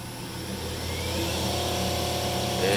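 The spindle of a Fadal 4525HT vertical machining center runs at speed, giving a steady mechanical whine that climbs slightly in pitch and loudness over a few seconds.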